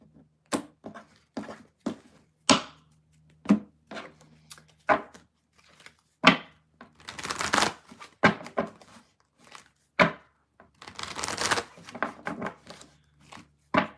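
Crisp papery riffles and snaps of tarot cards come in short bursts with pauses between, close up, like cards being shuffled repeatedly by hand.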